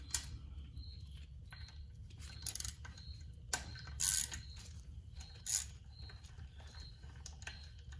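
A 10mm socket ratchet backs out bolts on a 4-stroke bike's clutch cover, giving close, crisp clicking runs interrupted by a few louder metallic clacks, with a faint low hum behind and no talk.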